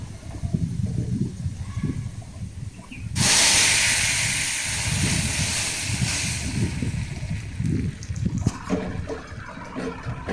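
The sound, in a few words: lentils hissing as they are added to hot tempering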